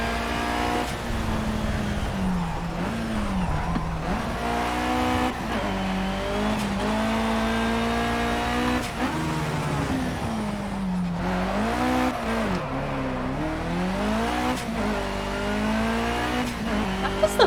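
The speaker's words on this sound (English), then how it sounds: "That was the most magic handbrake turn I think I've ever seen." A race car in Project Cars, including an Evo 6, with an engine revving and shifting in wavering pitch and tires squealing through a handbrake turn, loud and continuous.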